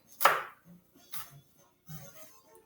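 A kitchen knife chops salsa ingredients on a cutting board, with one sharp loud chop followed by a few softer cuts at uneven intervals and no talking.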